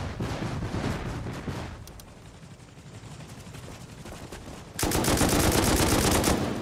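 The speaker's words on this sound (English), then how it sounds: "it didn't go anywhere after it shot rockets" A helicopter firing rockets in the survival game Rust: a rattling burst of gunfire-like blasts fades to a quieter rumble, then a sudden loud, sustained roar of rocket launches erupts near the end.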